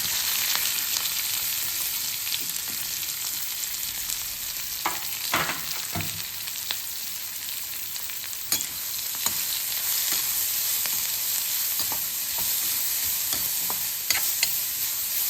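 Onion, green chili and grated carrot are stir-fried in oil with mustard seeds in a pan. A steady, moderate sizzle is broken by occasional sharp spatula scrapes and taps, and no one speaks.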